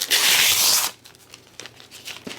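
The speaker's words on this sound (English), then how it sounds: "First, we're going to take off this little plastic that's on top." Protective plastic film is peeled off the screen of a Garmin DriveSmart 65 GPS unit. One loud, close tearing rip lasts about a second, followed by faint crinkling handling.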